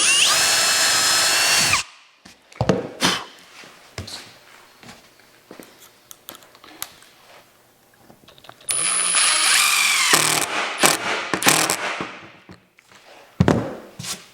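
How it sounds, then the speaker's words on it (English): A power drill with a countersink bit bores into a plywood test piece, two loud, close whirring runs separated by scattered knocks, scrapes and handling clatter, ending with a short burst. "now we're going to do just a test piece just to see if the countersunk is deep enough or too shallow"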